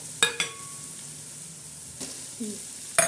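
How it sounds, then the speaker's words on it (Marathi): Spice masala for chicken pulao roasts in a hot pan, giving a soft, steady sizzle broken by a few sharp clicks and scrapes of stirring. "असा मस्त खमंग मसाला भाजत आहे आपला"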